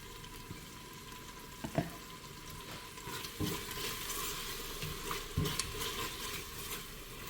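Tomato and garlic paste frying in hot coconut oil in a pan for Gilli biryani, giving a steady close sizzle with occasional stirring scrapes and clicks, no talking.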